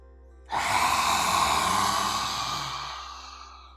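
A single long, deep breath during a yoga exercise, a close, breathy rush that starts abruptly and fades slowly over about three seconds, with no other sound.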